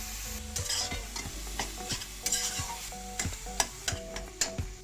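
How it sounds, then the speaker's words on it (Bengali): Chicken mince frying in oil with spices, a soft continuous sizzle under repeated scraping and knocking of a spatula against the pan, close by and moderately quiet, no voices. "ভাজা ভাজা করতে হবে চিকেনটা তারপর বানানো মশলাটা দিয়ে দিলাম"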